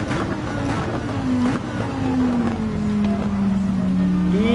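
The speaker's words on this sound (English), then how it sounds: "The Lamborghini is absolutely fantastic on this track." A Lamborghini race car in a racing video game drones steadily throughout, its engine note sliding gradually lower then rising again at the end, loud and continuous with no talking.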